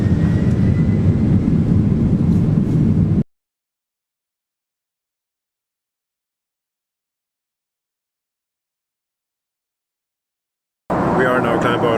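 Airliner cabin noise during takeoff: a loud, steady broadband roar of the engines and airflow fills the cabin, cuts to a long silence, then returns just as loud.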